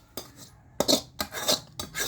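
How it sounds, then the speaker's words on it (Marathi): Navratna pulao being stirred and mixed in a metal pot, with several separate close scraping strokes of a spoon against the pot between short pauses. "हे बघा, मिक्स करत आहे आता पुलाव।"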